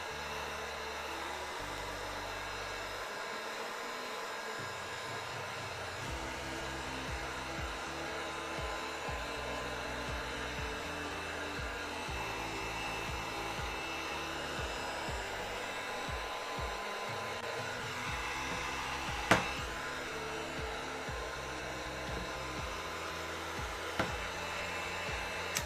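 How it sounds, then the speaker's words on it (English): A heat gun blows steadily over cosplay armor material for a Monster Hunter Rise Barioth build, a constant close airy roar throughout with a couple of brief clicks near the end. "So now we'll heat up this side a little bit more."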